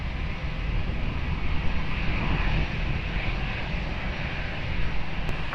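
An airplane landing on runway 20 at Lisbon Airport: a steady, broad jet roar with some wind rumble that holds at one level for several seconds, with no voices.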